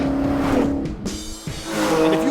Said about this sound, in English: ripping around in a V8 cop car in the California canyons